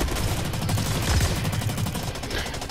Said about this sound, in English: I just got shot and kind of did a face plant